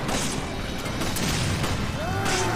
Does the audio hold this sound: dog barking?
no